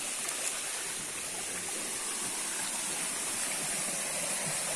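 Drinking water runs from a spring on a trail in Brasília, giving a steady, moderately loud splashing rush with no pause and no talk.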